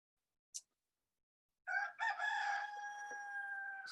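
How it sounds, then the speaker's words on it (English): A rooster crows loudly and nearby in a long drawn-out call, preceded by a single short chirp from the chickens in an otherwise silent setting. "Sorry if you can hear the chickens."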